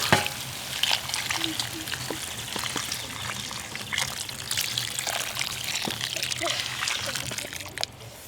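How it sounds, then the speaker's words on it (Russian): Broth poured into a pan of simmering green meatballs, a steady trickling splash with light bubbling and clinks throughout, fairly close, with a voice speaking over it. "А теперь заливаем вот это дело нашим бульоном."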